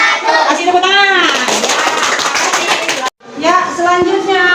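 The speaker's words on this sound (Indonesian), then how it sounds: "Kasih tepuk tangan." A classroom of students claps briefly in the middle, a short burst of many hands between children's voices, which speak before and after with a brief silent gap.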